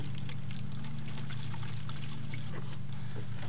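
Water pours from a full gallon jug into an empty gallon jug while mixing coolant for a Jeep cooling system flush, a steady gurgling stream over a low constant hum, moderately quiet and continuous throughout.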